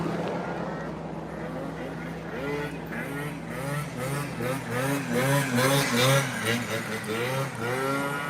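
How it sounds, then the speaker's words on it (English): A truck idles and revs nearby with a rattling exhaust. The engine pulses rhythmically and grows louder toward the middle, with voices underneath at times. "It sounds like an exhaust is rattling."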